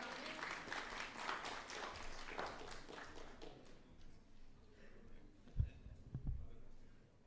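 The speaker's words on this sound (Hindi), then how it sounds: "तालियां हो जाएं।" Audience applause at a televised panel event, a burst of many hands clapping that fades out after about four seconds, leaving quiet room tone with a couple of soft thumps.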